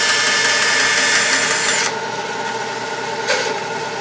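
A saw cut squaring the end of a mandolin nut blank, a loud close grinding cut that stops abruptly partway through, followed by quieter workshop noise and a brief second burst, with no talking.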